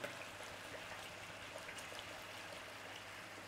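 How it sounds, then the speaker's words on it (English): Worcestershire sauce is poured into a meat pie filling, giving a soft, steady, quiet trickle of liquid that runs the whole time without a break. "we're going to go in with a decent glug of Worcester sauce"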